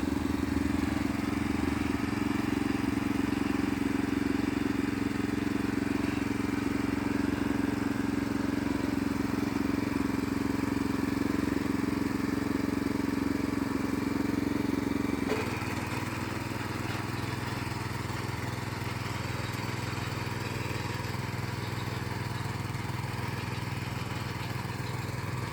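A Krisbow cultivator's small petrol engine drones steadily and loudly while tilling grassy soil, holding a constant pitch that drops slightly in load partway through, with no voices.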